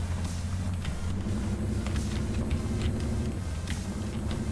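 A UAZ off-road vehicle in Spintires drifts with a low, steady engine rumble and faint ticking on top, held at an even level throughout with no talking.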